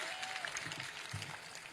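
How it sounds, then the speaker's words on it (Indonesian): Audience applause at an Indonesian public event attended by local officials, a steady broadband patter of clapping from a seated crowd, moderately distant and fairly even throughout. "tepuk tangan."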